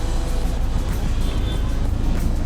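Busy Cairo street traffic makes a steady, dense roar of engines and road noise, close by and continuous, with no clear single vehicle standing out.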